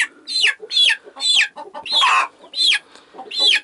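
Young chickens being caught with a net cluck and squawk loudly and close by, in a quick series of about seven sharp, rhythmic calls.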